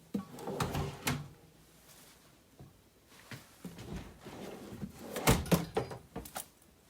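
Large pull-out drawers with quiet slim latches in a 2019 DRV Mobile Suites RV kitchen, sliding and closing in several soft thunks and rolling slides, close by with no talk.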